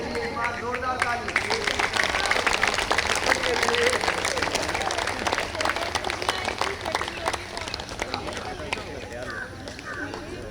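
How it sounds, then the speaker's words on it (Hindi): An audience at a yoga workshop in a physical education department claps loudly and continuously for around ten seconds, a dense crowd of hands that tapers slightly near the end, with voices mixed in. "एक बार जोरदार ताली।"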